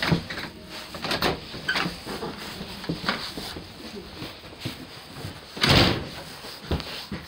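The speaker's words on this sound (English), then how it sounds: "Our door isn't very good. It's shutting tight." A stiff, tight-fitting door in a snowy setting is pushed and shut: scattered knocks and rattles build to one loud, heavy thud near the end, with some faint movement noise around it.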